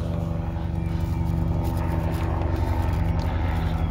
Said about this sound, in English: We got a helicopter going by.